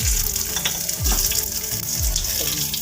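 Dried red chillies and cumin seeds hit hot oil for a daal mash tempering, giving a loud, steady crackling sizzle with a few sharp pops and low thumps from a stirred pan, with no talk.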